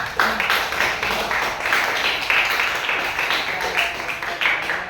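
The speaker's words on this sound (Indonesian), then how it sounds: "tepuk tangan dulu untuk kelompok" A class applauds a group of students, a dense patter of clapping hands that rises and falls in waves, fairly close and filling the whole stretch without clear speech over it.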